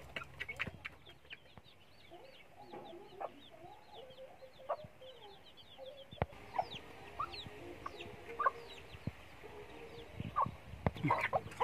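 Hens cluck softly with high peeping chicks in a backyard poultry setting, a mother hen with her two chicks; short clucks and chirps repeat irregularly at close range, with scattered louder calls later on.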